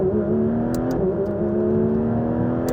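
A Porsche GT3 RS engine revs in first gear up to about 5,000 RPM, giving a sustained, smoothly rising mechanical note heard close up from inside the car, with a few faint clicks.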